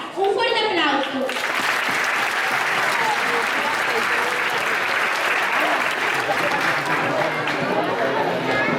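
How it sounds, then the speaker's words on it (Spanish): A school festival audience breaks into loud, sustained applause, dense clapping filling the space for several seconds after a brief announcement voice at the start. "Un fuerte aplauso."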